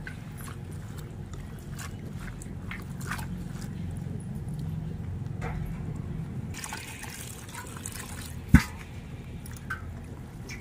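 Wild leafy greens are swished and rinsed by hand in water, a soft, ongoing sloshing and dripping with one sharp knock partway through and a dog barking briefly in the background.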